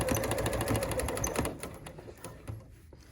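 A sewing machine stitches along a metal zipper with a rapid mechanical whirr that runs steadily, then slows into spaced individual needle strokes.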